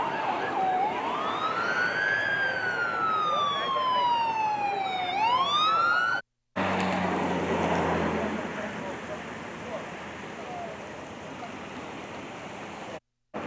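An emergency vehicle siren wails loudly in rising and falling sweeps as fire engines and an ambulance arrive at a road crash, then cuts to a rough, rumbling street noise.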